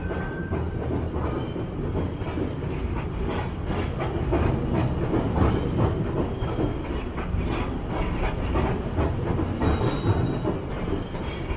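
Two GO commuter trains rumble past close by with steady rail clatter and occasional wheel squeal, the roar holding loud and continuous throughout.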